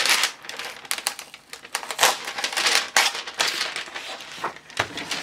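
A sheet of watercolor paper is torn from the pad in a stubborn, crackling rip that comes in uneven bursts over several seconds, close and fairly loud, with no talking.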